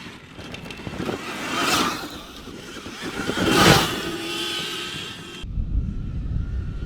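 Electric whine and rolling rumble from a Sur Ron electric motorbike fitted with a 4MF moto kit, swelling twice as it rides past up close, then cutting to a steadier low rumble near the end.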